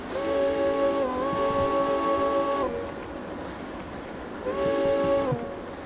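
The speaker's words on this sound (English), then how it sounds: "Good horn." Train horn in the railway game Derail Valley, two long multi-tone blasts, the first running about two seconds with a slight pitch step and the second shorter, loud over a low rumbling background.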